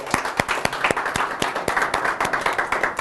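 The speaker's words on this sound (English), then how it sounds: "Give yourself a hand of applause." An audience in a room claps together for about three seconds, a dense, close patter of many hands in steady rhythm with no voices over it.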